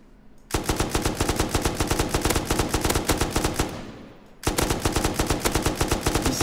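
A rifle fitted with a muzzle brake sprays full-auto in the game Rust: a rapid, unbroken stream of loud gunshots, a short break with a fading tail, then another fast burst.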